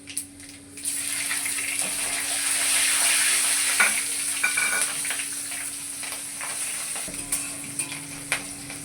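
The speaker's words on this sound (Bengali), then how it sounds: "তেল গরম হয়ে গেছে, আমি দিয়ে দিলাম পাঁচফোড়ন, কাঁচা লঙ্কা," Panch phoron spices and green chillies frying in hot mustard oil, a loud, continuous sizzle with scattered pops and crackles that stays steady close by, with no talking.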